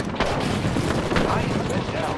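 Airstrike explosions in a shooter video game rumble as a continuous, noisy barrage of booms and crackling gunfire over a couple of seconds, with faint game voices mixed underneath.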